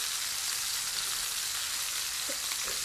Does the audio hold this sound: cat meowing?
no